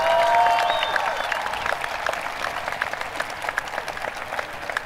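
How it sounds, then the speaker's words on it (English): Audience applause in a high school graduation ceremony hall, starting with a loud wash of clapping and fading into scattered individual claps, with faint tonal traces of a voice or sound system early on. "Can we give them a round of applause?"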